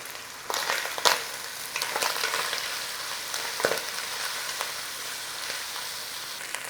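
Tinned corned beef fries in a steel pan, giving a steady close sizzle. A few sharp scrapes and knocks come from a utensil working it as it turns crisp.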